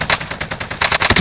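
Rapid automatic AK rifle fire in a video game, a close burst of about a dozen sharp cracks in quick succession.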